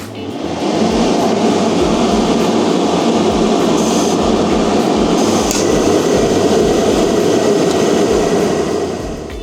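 A Venom gas heater runs after ignition, its fan and burner producing a steady, loud, broadband roar that holds evenly throughout with no voices.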